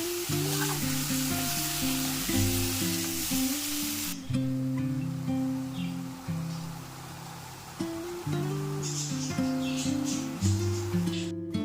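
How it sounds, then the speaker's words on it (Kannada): Sliced mushrooms frying in butter in a pan for a spinach mushroom gravy, giving a steady close sizzle throughout, with a tonal hum of music running underneath and no talk. "ನಾನಿಲ್ಲಿ ಬೆಣ್ಣೆ ಜೊತೆ ಫ್ರೈ ಮಾಡ್ಕೊಂಡಿದ್ದೀನಿ."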